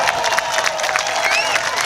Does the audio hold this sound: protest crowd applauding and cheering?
yes